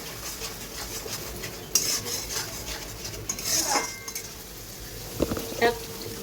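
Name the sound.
stirring chicken with ginger garlic paste in pot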